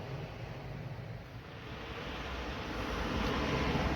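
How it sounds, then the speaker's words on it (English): A steady broadband roar of surf close at hand, building slightly louder toward the end, with wind buffeting mixed in and no voices. "it's a bit noisy now the sea's close."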